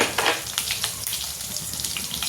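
Onion, green chili and garlic frying in a pan with a steady close sizzle and crackle, soft scraping touches breaking through now and then, no talking.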